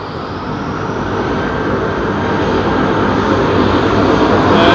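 A jet airliner departs London Heathrow Airport at sunset, its engines a loud, broad roar that builds steadily over several seconds with no voices.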